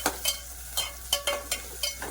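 Onions cook in a pan for a raw mango curry while a spatula stirs them, giving about eight sharp, rhythmic scraping strokes over a low sizzle.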